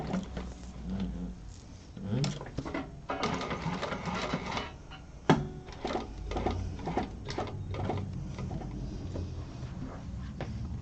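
A sewing machine stitches in bursts with rapid mechanical chatter, stopping and restarting as the needle is lowered to pivot the fabric, with a voice speaking over it at times.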